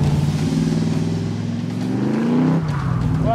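A 1963 Corvette Grand Sport drives hard and corners, its engine note climbing and dropping through a fast bend, heard close and loud with no talk over it.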